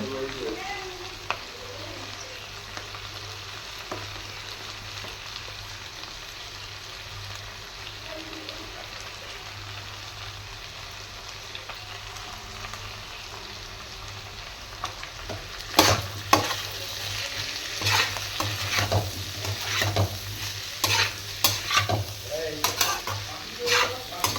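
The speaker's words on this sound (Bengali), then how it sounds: "এখন পেঁয়াজটা চিংড়ি মাছটা ভাজা হচ্ছে" Onion and prawns fry in a pan, at first as a quiet, even sizzle, then turning louder and busier after about two-thirds of the way with scraping stirs and crackling bursts.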